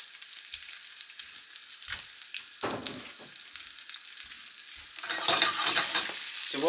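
A sea-caught bream fillet fries in a pan, a soft sizzle punctuated by scattered pops and spits, swelling into a louder, denser crackle toward the end, close by with no talking.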